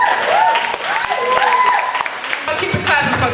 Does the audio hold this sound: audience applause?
yes